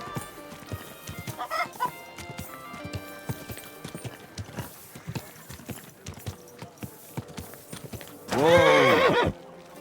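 Horse hooves clip-clop steadily in Kingdom Come: Deliverance II, with a short whinny early and a loud, drawn-out neigh near the end, chickens clucking faintly in the background.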